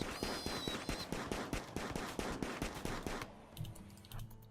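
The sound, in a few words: gunfire at a wild boar in video game Rimworld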